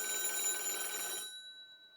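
A telephone bell rings from a call placed by a Tiger 911 autodialer, a bright steady electronic trill heard once for just over a second, then fading into a ringing decay.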